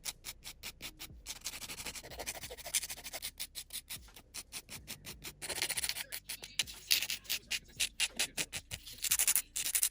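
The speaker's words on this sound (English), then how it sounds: "For the thumb, I'm just gonna trim it down a little" Gel nail tips being trimmed and filed into shape make rapid, rhythmic scratching and rubbing strokes, close and fairly loud, in bursts with short pauses.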